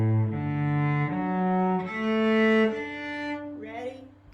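Cello bowing a slow rising arpeggio, each note held and stepping upward in turn before a brief softer close, played alone without speech.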